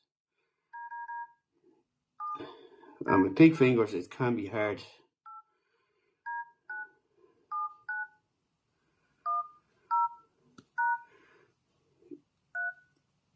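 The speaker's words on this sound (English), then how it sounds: "Just going to type in my own phone number there" Phone keypad tones beep one at a time at an irregular pace on a WatchOvers Assure 4G watch, with someone speaking briefly between the early presses.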